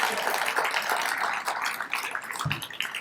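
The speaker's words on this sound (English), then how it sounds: "You got to clap." Steady clapping from an audience at a veterans' storytelling event, a continuous dense patter of many hands without a break.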